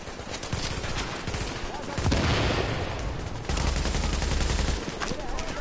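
Rapid bursts of shotgun gunfire in The Division video game, loud and close, with chunky blasts layered over a busy rumbling combat background.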